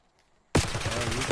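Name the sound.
assault rifle gunfire, likely from a video game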